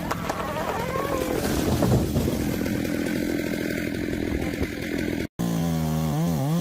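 A Stihl chainsaw roars continuously up close while limbing branches off a large felled tree, the engine pitch wavering under load, then briefly cutting out and revving up again with rising and falling pitch.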